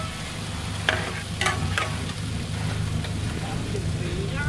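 Bananas frying in oil across five pans at a long-running roadside stall in Kamphaeng Phet, Thailand, give a steady, close sizzle with a few sharp clinks and stirring scrapes over a constant background hum.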